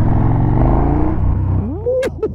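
A KTM Super Duke 1290R motorcycle accelerates hard during a test ride, its loud, close engine roaring steadily before the pitch climbs sharply as it revs up through the throttle, ending with a few abrupt bursts.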